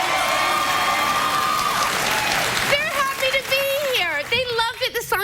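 A late-night talk show studio audience breaks into a dense, loud wash of applause, then the clapping thins out as a voice begins talking over it.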